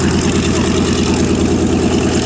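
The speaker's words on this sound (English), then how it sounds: "They're going to do a run-up, I believe, and make sure all the systems are working" A TBM Avenger's 1,700 hp Wright Cyclone 14-cylinder radial engine runs loud and close at an airshow open house during a run-up, a steady heavy low drone with a continuous pulsing throb and no pauses.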